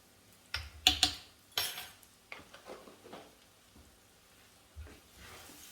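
Curry powder and paprika get stirred in a frying pan for Asian fried rice, with a few sharp spoon scrapes and clanks against the metal up close, then softer, sparser stirring strokes over a faint sizzle.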